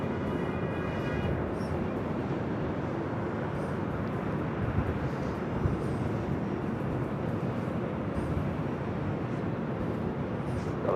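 A jet airliner taking off from runway 24 left at Los Angeles International Airport, heard as a steady, loud, broadband engine roar that holds throughout without a break and with no talk over it.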